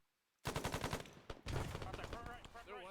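Rapid bursts of rifle and machine-gun fire crack out close by during Marine squad training, a rattling volley followed by further shots, with a voice speaking briefly under the gunfire.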